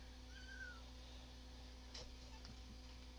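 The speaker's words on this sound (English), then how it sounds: "my cat, my Land Kraken, it had kittens about, 3 or 4 weeks ago" A three-to-four-week-old kitten gives a single short, high meow early on, faint against a steady low indoor hum, followed by a few small soft clicks and knocks.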